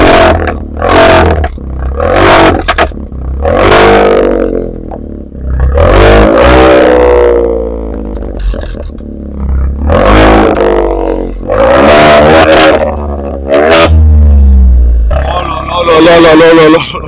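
A SEAT Ibiza stage 2+ engine starts and revs hard in a series of loud, close bursts that rise and fall repeatedly, with pops between blips and brief voices around them.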